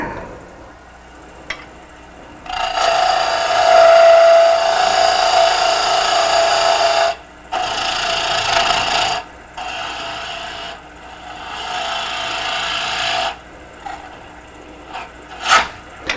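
A dull bowl gouge cuts wood on a lathe in rough, raspy scraping passes, loud and close, broken by short pauses and a few sharp knocks.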